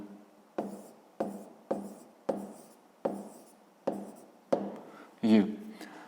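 A pen scratches across paper while a math exercise is written out, with eight or nine evenly spaced strokes, each a short crisp scrape, close and clear.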